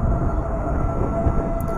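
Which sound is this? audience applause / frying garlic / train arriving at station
train arriving at station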